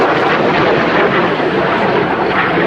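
Italian Air Force Frecce Tricolori jets fly over a RIAT 2011 airshow with a loud, continuous roar that holds steady throughout.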